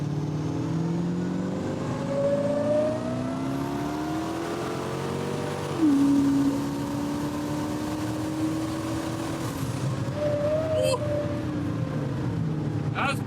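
A twin-turbo Jeep accelerates hard on a timed run, its engine rising through gears with a brief drop and surge at a shift, loud and close, with talk partly over it.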